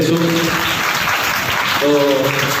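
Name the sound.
audience applauding to welcome dignitaries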